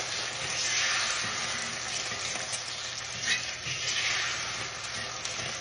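An egg fries in too much oil in a pan, a steady close sizzle and crackle running throughout with small bursts of spattering and no talk.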